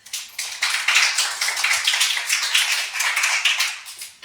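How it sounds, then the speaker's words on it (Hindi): Classroom applause for a student, a dense patter of many hands clapping steadily for about four seconds, close and fairly loud with no talk over it. "तालियां हो जाए भाई के लिए"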